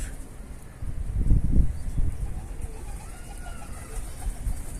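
Soft pigeon cooing under a low outdoor rumble, with a brief rustle of wings or movement early on.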